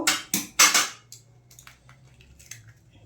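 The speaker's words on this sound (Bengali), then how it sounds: "এই ডিমটা ফাটিয়ে দেব" An egg cracked against a bowl for a pakora batter with mustard oil, several sharp, loud knocks close together followed by quieter clinks and a faint hum.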